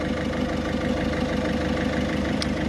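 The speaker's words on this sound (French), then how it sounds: "Maintenant, on va faire tourner le moteur à 2500 tours." A car's diesel engine held at a steady 2500 rpm during a particulate filter cleaning, a continuous close drone with no talk over it.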